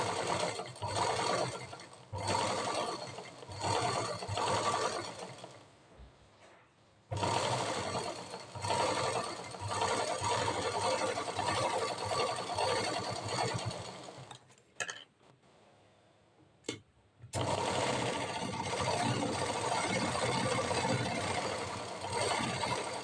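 A sewing machine stitches a blouse seam in bursts of steady mechanical whirring and ticking, stopping briefly between runs and falling silent once near the end before it starts again.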